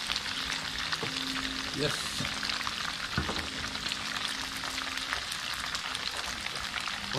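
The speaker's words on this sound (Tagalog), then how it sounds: "gisahin lang natin" Garlic sautés in a hot pan during a catch-and-cook meal, a steady crackling sizzle with occasional stirring clinks while a voice speaks briefly over it.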